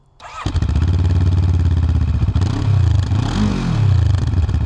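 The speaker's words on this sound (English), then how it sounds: "The first thing you'll notice about the Moto Morini X-Cape 700 is how pretty damn sweet it sounds." A Moto Morini X-Cape 700 motorcycle with stock exhaust starts up and settles into a throaty, steady idle, then revs a couple of times with a smooth, rumbling exhaust note, close by.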